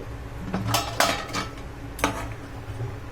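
A spoon scrapes and clinks against a pan as chili and turmeric powder are stirred into broccoli gravy, giving a few sharp metallic taps amid a soft background hum.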